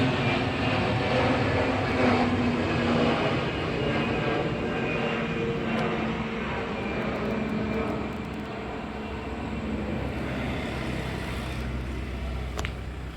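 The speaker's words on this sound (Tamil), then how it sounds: "பக்கத்தில் ஏர்போர்ட் இருக்குது ஸோ ஃப்ளைட் ஒன்று போயிட்டுருக்கு" An airplane from a nearby airport drones steadily overhead, a broad, rumbling engine roar that holds for several seconds before easing slightly as it passes.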